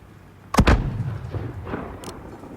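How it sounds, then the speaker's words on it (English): Enemy mortar fire in the Call of Duty: Modern Warfare video game: one loud, close blast with a sharp attack and a rumbling decay, followed by fainter distant thuds. "Alqatala forces operating mortars"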